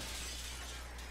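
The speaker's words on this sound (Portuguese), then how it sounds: "Você quebrou os vidros?" Glass windows shatter in the GTA V video game, a brief, dense, crunching burst of breaking glass heard alone.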